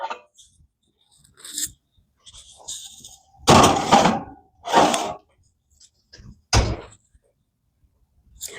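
A muffin pan slides into a home oven, then the oven door shuts with several loud thumping bangs separated by quiet pauses, with small kitchen clatters in between.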